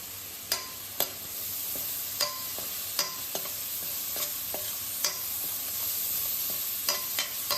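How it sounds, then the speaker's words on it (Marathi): Curry leaves sizzle steadily in hot oil for a tempering, a constant frying hiss punctuated by sharp, regular scrapes and clinks of a spoon stirring in the pan. "फोडणीला टाकून घ्यायचा कढीपत्ता"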